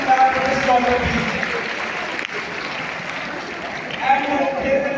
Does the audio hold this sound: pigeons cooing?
no